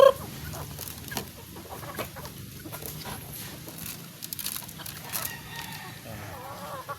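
Roosters on a Philippine homestead clucking and crowing, scattered calls near and far over quiet background noise, with a louder burst of clucking toward the end.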